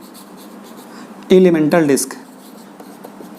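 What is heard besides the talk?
writing on a board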